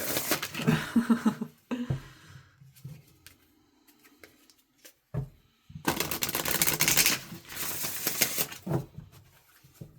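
Quick riffling bursts of cards being shuffled, two longer rattling runs separated by quieter handling and pauses, close up.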